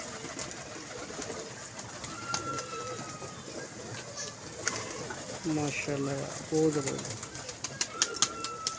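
Pigeons at a pigeon club in Lahore coo in low, soft bursts with a few flutters among quiet background noise, while someone speaks briefly nearby.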